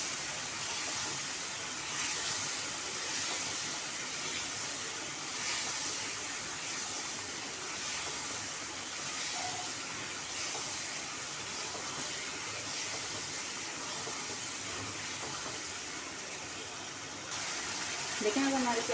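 Chicken karahi fries with white pepper powder and green chili paste in a pan, giving a soft, steady sizzle that runs throughout at a moderate distance, with faint talk in the background.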